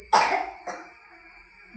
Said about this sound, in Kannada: ಕೆಮ್ಮು ಜೋರು ಬರ್ತಾ ಉಂಟು.